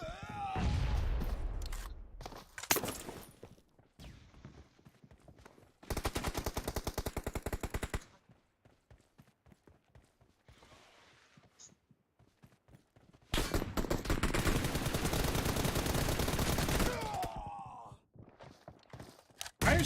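SKS rifle gunfire in PUBG Mobile comes in loud bursts of rapid shots, clustered in a few separate volleys with quieter gaps between them, and no speech over the shooting.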